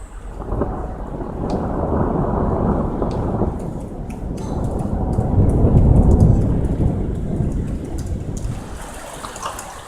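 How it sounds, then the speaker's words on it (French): A hailstorm pounds down in a dense, continuous roar over Amiens, Somme, France, with deep thunder rumbling through it and swelling louder midway. "Oh, il grêle."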